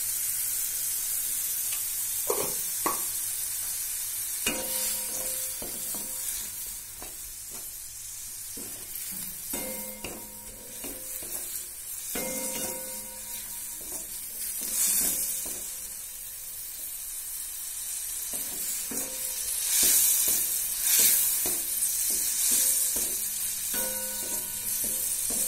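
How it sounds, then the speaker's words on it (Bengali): Lote dry fish sizzles and fries in a pan with a little water, turmeric and salt, a continuous hiss broken by repeated metallic scraping and stirring knocks, close and fairly loud, with no talk. "মাছটা ফ্রাই হয়ে গেছে"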